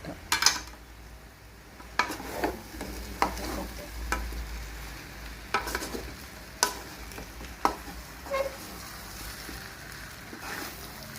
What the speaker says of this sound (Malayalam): ഇനി അതൊന്ന് നന്നായി ഇളക്കി കൊടുക്കാം നന്നായി ഒന്ന് ഇളക്കി കൊടുക്കാം